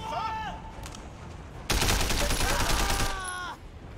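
Rapid gunfire rattles at a vehicle in the action game Sleeping Dogs: Definitive Edition, a dense, loud burst of automatic shots lasting about two seconds, preceded by other brief game sounds.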